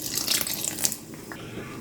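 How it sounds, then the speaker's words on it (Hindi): Half a glass of water is poured into thick cooking mutton haleem, a short close splashing gush that tapers off after about a second. "अब इसमें मैं आधा गिलास पानी डाल के"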